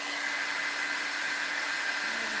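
A hair dryer blowing on a cactus painting, a steady loud whooshing hum with a faint motor whine, running evenly throughout with no talk.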